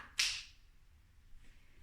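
A single sharp finger snap during a dance rhythm exercise, crisp and close, followed by quiet room tone.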